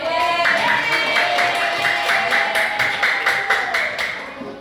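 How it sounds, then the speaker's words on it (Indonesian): A class of schoolchildren claps hands in a quick, regular rhythm of sharp claps that sit over a steady sustained tone, moderately loud and close. "Ya, tepuk tangan."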